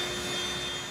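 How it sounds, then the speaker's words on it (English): Roar of an Avro Vulcan bomber's jet engines, a steady broadband rushing drone with a faint high whine, loud and sustained for about a second with no talk. "And that noise you hear, that's the noise of the Vulcan."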